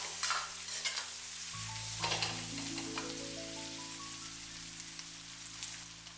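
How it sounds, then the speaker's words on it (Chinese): Chopped garlic and fermented black beans stir-frying in a wok with pork belly, a loud, close, continuous sizzle and crackle under steady background music. "接下來把切好的蒜子和豆豉直接倒在鍋中，快速翻炒均勻"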